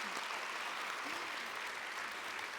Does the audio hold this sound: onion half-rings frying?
no